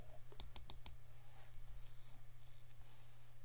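A computer mouse clicks several times in quick succession while a category is selected in a study tool, followed by a few softer clicks, all close and crisp over a low steady hum.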